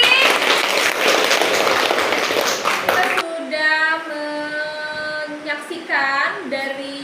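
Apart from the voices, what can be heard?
classroom applause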